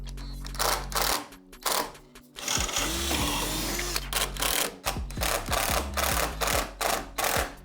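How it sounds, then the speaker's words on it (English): A powered drill drives 80mm wood screws with washers into plastic, giving a loud, close whirring motor in repeated bursts with brief pauses and pitch shifts as each screw bites. "So this is just how the screws are going in."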